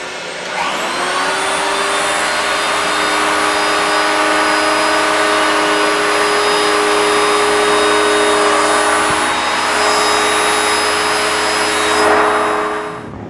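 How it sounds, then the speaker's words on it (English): A carpet beveler machine runs steadily over a rug edge during carpet binding, a loud continuous motor whine with sharp tonal hum that starts up and holds for several seconds before a brief dip and swell near the end. "So let's run this through the beveler."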